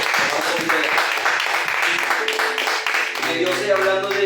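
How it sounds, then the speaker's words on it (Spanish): Applause from a church congregation fills the sanctuary, dense broadband clapping with a sustained music-like tone rising underneath toward the end. "Bríndele un fuerte aplauso al Señor."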